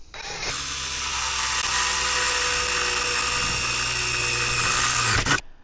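A power drill with a 5/16 bit bores the final hole in the front fender of a Honda Shadow 750, a loud, steady whine that runs continuously for about five seconds before cutting off abruptly.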